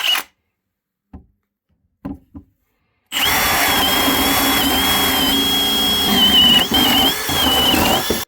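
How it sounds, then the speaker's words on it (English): A few short knocks and taps break the silence, then a power drill whines loudly and continuously for several seconds while boring drainage holes into a wooden planter, with a brief dip near the end. "Just need to put some drainage holes in."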